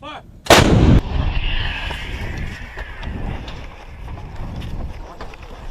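An M777 towed 155mm howitzer fires a single loud, sharp blast close by, followed by a rumbling echo that fades amid wind and outdoor crew noise.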